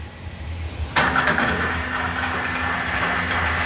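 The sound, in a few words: Leblonde Makino lathe spindle running at 132 RPM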